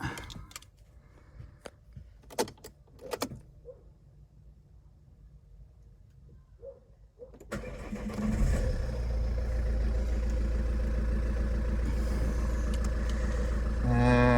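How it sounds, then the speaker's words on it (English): Vauxhall Insignia 2.0 CDTI diesel cranks and fires after several seconds of quiet clicks and tapping, then settles into a loud, steady, close-up idle that runs to the end. "Start the engine."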